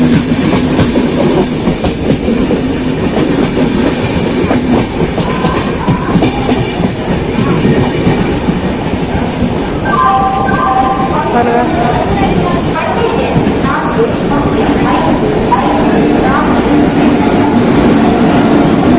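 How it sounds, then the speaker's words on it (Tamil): Kanyakumari–Howrah superfast express train with new coaches running on rails, a loud continuous rumble with rhythmic clickety-clack and some squeal from the wheels, heard from inside as people talk over it. "Kanyakumari to Howrah express guys."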